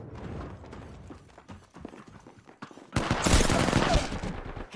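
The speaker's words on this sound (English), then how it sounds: "Getting shot at." Apex Legends gunfire erupts suddenly partway through, a loud, sustained barrage of rapid shots and impacts following a quieter stretch of game sounds and chatter.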